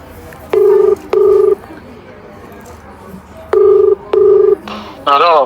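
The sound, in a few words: phone call ringing, prank call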